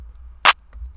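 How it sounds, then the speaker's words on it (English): A single clap sample in an FL Studio pop beat rings out once, short and bright, mid-way through, alone against near silence with a faint softer echo after. "The clap sounds like this."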